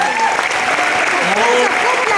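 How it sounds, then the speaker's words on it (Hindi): Loud, dense applause from an audience at a BBS Team Force motivational program, filling the whole stretch with a steady roar of clapping, with a voice speaking over it. "तो आपके ग्रेट लीडर के लिए एक जोरदार ताली होनी चाहिए"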